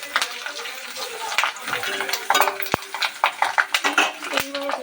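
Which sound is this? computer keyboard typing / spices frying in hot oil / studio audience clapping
spices frying in hot oil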